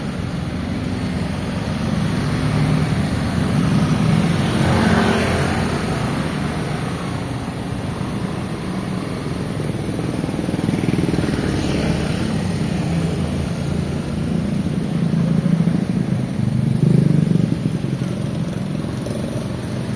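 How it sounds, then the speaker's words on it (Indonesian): Holiday traffic jam on a busy street in Makassar: a steady, loud roar of engines with motorbike drone and passing vehicles, continuous throughout, with no voices. "wah di sini macet nih teman-teman."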